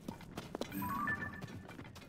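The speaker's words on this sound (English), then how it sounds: "Oh, it's a horse." Horse hooves clip-clopping in Zelda: Tears of the Kingdom, faint soft irregular hoof steps with a low ambient game background.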